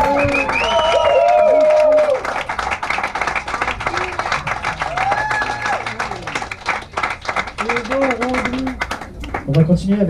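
Audience applause for a guitarist rings through a small live music venue, steady clapping with whoops and cheers while a voice talks over it and the clapping gradually fades.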